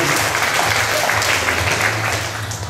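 Steady applause from a live audience at a televised evening show, dense clapping that stays loud throughout before easing slightly at the end.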